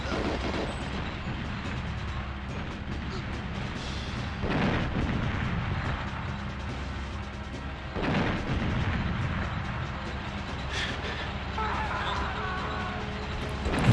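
Tank turret shells firing in the GoldenEye N64 game, two heavy booming blasts about four seconds apart over a constant rumbling game soundscape.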